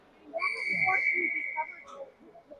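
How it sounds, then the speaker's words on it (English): A referee's whistle at an ice hockey game between the Rampage and the Lincoln Stars gives one long, steady, piercing blast to stop play, heard clearly over a commentator's voice and arena noise. "we get a whistle and a stoppage"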